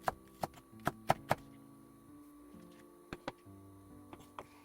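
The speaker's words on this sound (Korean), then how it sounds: "대파 2줄을 이렇게 썰어주세요" A knife chops the white stalks of two daepa green onions on a board for kkakdugi, giving a handful of sharp, separate knocks in two short bursts over steady background music.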